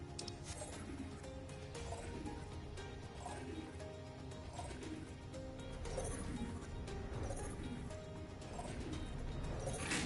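Repeated bird calls, likely a pigeon or dove cooing, sound at a moderate distance over steady game ambience and music in Final Fantasy XIV, recurring every second or so throughout.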